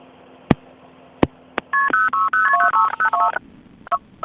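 Vintage telephone DTMF dialing tones ring out as a loud rapid run of paired beeps, preceded by a few sharp mechanical relay clicks and followed by one more click and a short tone burst.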